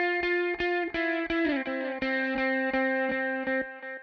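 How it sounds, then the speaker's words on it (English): Electric guitar played through the stock Ableton Live chorus with an eighth-note delay, bright sustained notes repeating in steady rhythmic pulses with echoing repeats trailing each struck note. "This is going to give a little bit of echo, some delay on there. This is set to an eighth note delay."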